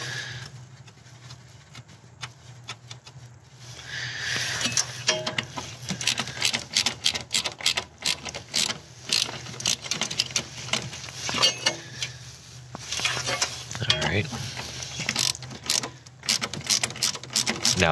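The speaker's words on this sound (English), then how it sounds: "So grab your 12 mil ratchet." A 12 mm ratchet on a small extension loosening intercooler hose clamps on a Subaru, giving rapid clicking ratchet bursts and metallic clinks, close by, with brief pauses between runs.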